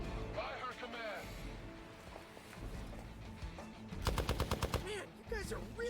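Rapid automatic gunfire in the superhero tactics video game Midnight Suns strikes an adamantium suit, a burst of closely spaced shots rattling over game sounds and talk.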